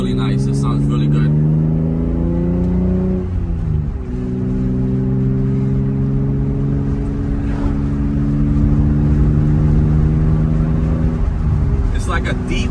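A 1995 Toyota Supra, naturally aspirated, fitted with an HKS Hi-Power carbon-titanium exhaust, idling and revving in a deep, mellow drone that dips briefly before steadying. Someone talks over the engine throughout.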